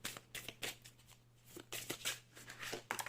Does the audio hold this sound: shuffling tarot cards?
yes